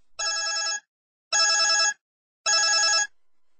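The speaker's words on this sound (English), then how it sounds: "That's John's phone. Leave it" A telephone rings three times in an even rhythm, each ring a bright, buzzy electronic burst of about half a second, loud and close, separated by silence.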